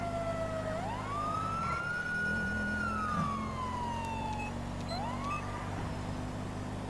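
A police car siren in GTA 5 wails in a rising and falling sweep that swoops up, holds, then drops and restarts, loud and close over a steady engine drone with no talking.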